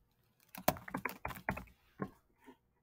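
Brief typing on a computer keyboard while entering a name in Inkscape: about a dozen quick, close key clicks in an uneven run, then a few slower taps, quiet and alone.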